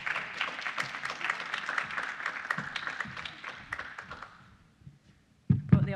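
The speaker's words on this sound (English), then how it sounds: "Let's give them a big hand of applause." Applause from an audience at a sponsor and recruitment fair event: a dense, steady burst of clapping that gradually thins and fades, followed by a brief voice near the end.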